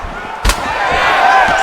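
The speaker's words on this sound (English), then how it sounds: "Finds a home for that left hook." A single heavy thud of a left hook landing in EA Sports UFC 5, sharp and loud, sitting over a steady arena crowd roar.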